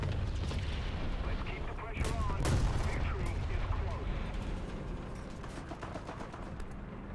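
Heavy recoilless gun fire in War Thunder booms out amid a busy game soundscape, with a large blast near the start and continuous rumble and clatter behind it.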